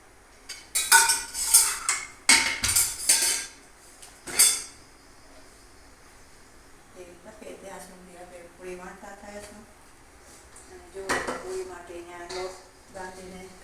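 A metal kadai is set down on a gas stove in a home kitchen while cooking puris and potato curry, with sharp clanks and rattling pan clatter up front, then quieter handling under a person talking.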